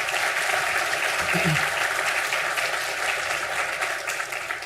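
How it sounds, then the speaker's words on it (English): Audience at a spring conferring ceremony in Sligo applauding graduates, a sustained even roar of clapping filling the hall throughout. "So I'd like you to give a round of applause, please, for those graduates."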